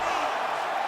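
A video game arena crowd in UFC 5 roars steadily as fighters struggle back to their feet, a dense, continuous wash of cheering with no pauses.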